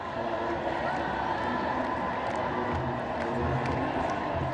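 A vast crowd fills the streets of Addis Ababa, Ethiopia, for the Epiphany festival, giving a dense, steady roar of many voices with scattered shouts and cheers throughout.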